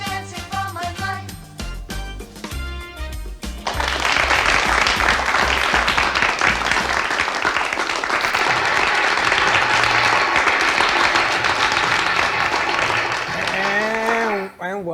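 After a few seconds of music, audience applause swells into a loud, sustained roar of clapping from a large crowd, continuing steadily before a voice breaks in at the very end.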